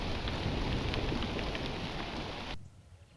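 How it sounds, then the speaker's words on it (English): Hailstorm pelting the ground in Monfragüe Biosphere Reserve, Spain, near a booted eagle nest: a dense, steady hiss and patter of hailstones that cuts off abruptly near the end. "Luckily, the hailstorm is over soon."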